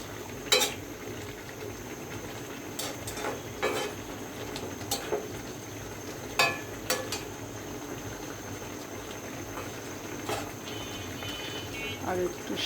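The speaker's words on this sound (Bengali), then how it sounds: "এবার একটু নাড়াচাড়া করে দিব।" Greens (shak) cooking in a pan being stirred, with scattered clinks and scrapes of a utensil over a steady bubbling simmer and background hiss, a voice talking in between.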